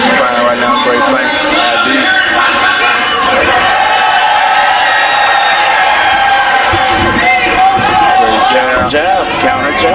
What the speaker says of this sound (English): Crowd is electrifying right now.